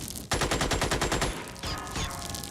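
Rapid automatic gunfire rattles out in a steady burst as an alien is shot at in Xenonauts, followed by a shorter second volley after a brief gap, loud and close with no talk.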